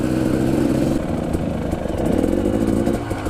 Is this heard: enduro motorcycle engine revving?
yes